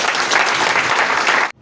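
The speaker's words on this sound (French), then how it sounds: "Applaudissons pour lui." An audience at a political campaign rally claps for a candidate, a loud dense burst of applause that stops abruptly after about a second and a half.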